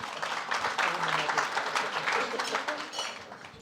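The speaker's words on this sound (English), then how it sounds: "are you clapping for the whole panel" Applause from an audience for a panel discussion, dense and sustained clapping filling the room before gradually thinning out.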